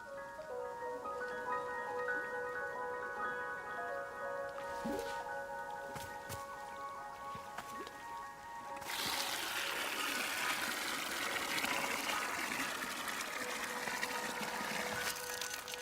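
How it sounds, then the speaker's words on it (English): A watering can pours water onto an egg in the game Wanderstop, a bright tonal musical chime first, then a sustained splashing, sloshing pour that fills the second half at moderate level. "Fill the watering can with water, then pour it onto your new egg."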